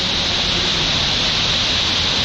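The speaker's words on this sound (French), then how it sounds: "la succession de ces cascades, il y a un brouhaha et on n'entend pas grand chose" A series of cascading waterfalls inside the Goule de Foussoubie cave roars in a dense, unbroken hiss of rushing water, loud and enveloping, echoing off the rock with no pauses and no voices.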